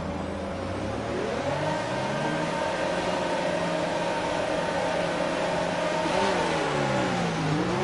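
An F1 car accelerating off the start line at Sochi in F1 2019, the engine pitch climbing steadily through gear shifts in a loud, sustained whine with dips where it changes gear.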